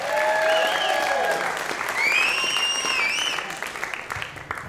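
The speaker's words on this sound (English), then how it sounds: "Y'all clap for them." A comedy club crowd applauds the show's hosts with sustained clapping. Whistles and cheers rise over it, and the clapping thins toward the end.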